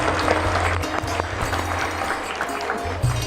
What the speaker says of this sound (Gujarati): આ દરેક કાર્યકર્તાઓને પણ તાળીથી સન્માનિત